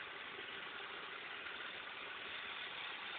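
Steady idle of a Vauxhall Frontera 3.2 V6 24-valve DOHC 6VD1 engine after an engine-bay wash, heard close up as an even, continuous hum with no misses or revs and no talking.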